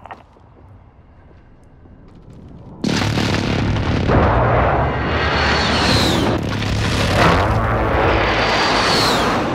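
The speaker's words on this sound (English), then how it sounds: "Be advised, friendly precision airstrike inbound." Precision airstrike in Call of Duty: Modern Warfare: after a quiet lead-in, a loud sustained barrage of booming explosions erupts and rolls on continuously with repeated surging blasts.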